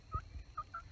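A wild turkey on Hawaii's Big Island gives short gobbling calls, three quick rattling bursts heard moderately close and clear against a quiet outdoor background.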